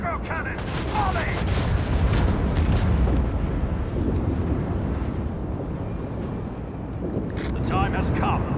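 Macro cannon volley from a warship in Warhammer 40000: Rogue Trader, a loud sustained barrage of booming blasts and rumbling fire layered with a voice speaking over it.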